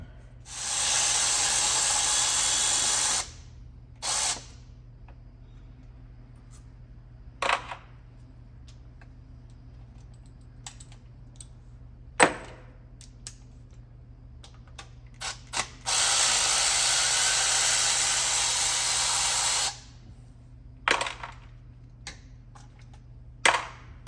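Ratchet wrench clicking as studs for the high pressure fuel pump are removed from a 2018 Nissan Titan XD 5.6 L engine, two long bursts of rapid clicking separated by scattered single clicks and tool knocks, close-up.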